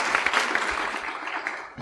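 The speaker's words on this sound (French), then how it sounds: "vous pouvez l'applaudir quand même" Audience applause at a talk on free software in society, a close, loud burst of many hands clapping that continues steadily without speech.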